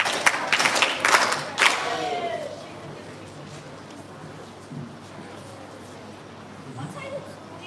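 A brief burst of clapping from an audience at a school public speaking competition, a handful of sharp claps at the start that quickly fades into quiet room noise with faint murmuring.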